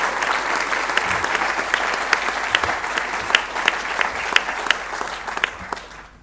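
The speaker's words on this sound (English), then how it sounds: "give a very big applause to all the team of the" A large audience at a keynote event applauds the Diapason team, a dense steady roar of clapping with crisp individual claps standing out, gradually fading toward the end.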